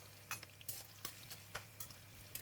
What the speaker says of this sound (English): We're going to fry the shallots until crispy and brown